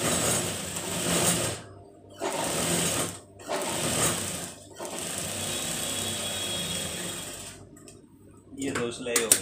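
A sewing machine runs close by in several bursts, its rapid mechanical clatter stopping and starting as it stitches along a salwar hem, with short silences between runs.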